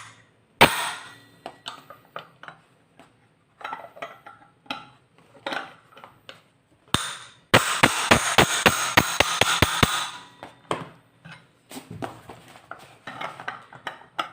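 A hammer strikes a scooter's automatic clutch assembly to loosen it: scattered sharp metallic knocks, then a rapid burst of about ten ringing blows in a row, followed by a few more isolated hits, close and loud.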